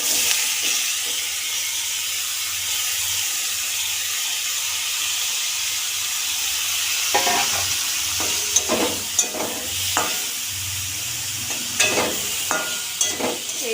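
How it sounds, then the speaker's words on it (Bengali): Small marinated fish fry with onions and turmeric in a pan for a curry, giving a steady close sizzle. Later, scraping stirs and clinks break in at irregular intervals. "এইভাবে আমরা মাছটাকে কষিয়ে নেব।"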